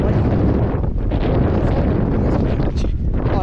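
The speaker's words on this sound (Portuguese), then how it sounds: "Olha o tamanho dessa tá ventando demais, demais." Strong outdoor wind buffets the microphone with loud, continuous rumbling gusts that swamp the whole recording.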